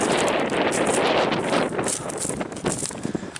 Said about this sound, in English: Not sure if you can hear me because it is really, really windy.